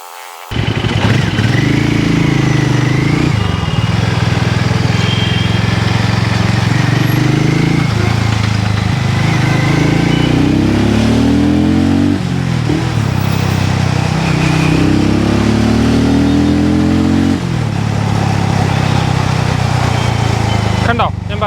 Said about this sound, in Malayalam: കണ്ടോ, ഞാൻ പറഞ്ഞില്ലേ നല്ല ടോർക്കി ആയിട്ടുള്ള എഞ്ചിനാണ്.